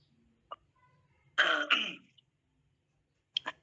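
A short cough followed by a clear, forceful throat clearing in two bursts, then another brief cough, close and otherwise quiet.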